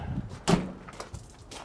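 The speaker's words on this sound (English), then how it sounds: "me close this door" A door closes with a single solid thud, followed by faint rustling and quiet movement nearby.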